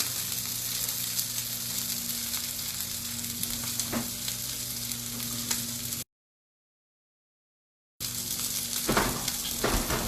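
A big handful of thinly shaved fennel fries in a skillet alongside breakfast vegetables, giving a loud, steady crackling sizzle with occasional stirring knocks, cut by a two-second dropout of silence midway before the sizzle resumes.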